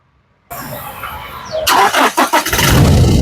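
A 2018 Toyota Innova Crysta 2.4 Z engine starting on a single crank: a brief starter whine, then the engine catches and settles into a loud, close, steady idle with a few rough pulses.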